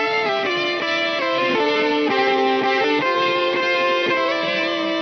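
An electric guitar through a Valco KGB Fuzz pedal plays sustained distorted chords with a thick fuzzy tone, the chord shifting every second or so, loud and without any voices.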